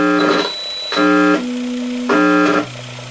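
A sustained high tone from a tonewheel organ rings out, swelling louder twice as notes are added, then settling back to a steadier hum.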